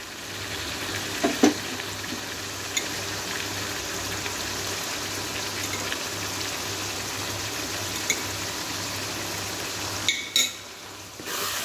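Mutton keema, tomatoes and spices frying in a pan make a steady, close sizzle, broken by a few sharp scrapes and knocks of stirring near the end.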